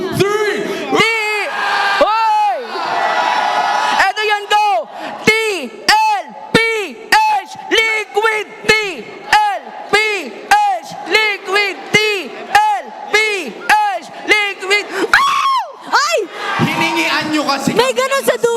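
A live esports arena crowd at a Mobile Legends MPL Philippines match shouts together on cue, a long run of sharp, rhythmic collective yells with brief gaps, loud and close, with voices calling out between bursts.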